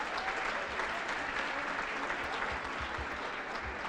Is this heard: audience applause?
yes